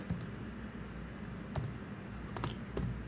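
A password is typed on a computer keyboard in a networking configuration session, with a few scattered, moderately close key clicks over steady background hum.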